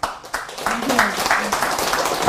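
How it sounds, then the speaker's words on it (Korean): A Buddhist dharma hall audience claps briefly and lightly while a monk keeps talking over it. "박수 칠 일 아니에요."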